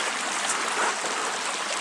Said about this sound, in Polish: Tam widać wodę tryskającą z ziemi, jeden z gejzerów